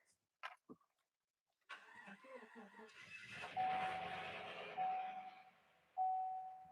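A car engine in a home garage cranks and fires up, then settles into a rough, uneven idle with a suspected misfire, rising in roar as it catches, fairly close with a steady tone riding over it.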